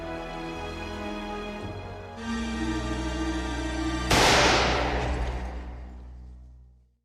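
A gunshot from the war film Full Metal Jacket, fired point-blank by Joker at the wounded sniper: a sudden loud blast that cuts through a held musical drone and then decays slowly over a couple of seconds.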